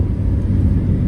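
A Mitsubishi Lancer Evo rounds a corner fast on an alpine mountain pass, its deep engine rumble loud and continuous at close range.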